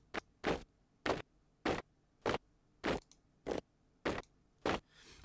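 Layered crunching footfalls of a marching army repeat in a steady marching rhythm, roughly one every half second. They are gritty and close, and no one speaks.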